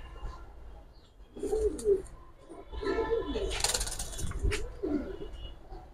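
Moulting Giribaz and coloured pigeons coo close by in soft, throaty bursts over a few seconds, with a low voice faintly in the background.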